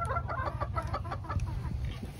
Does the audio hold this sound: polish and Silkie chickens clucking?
yes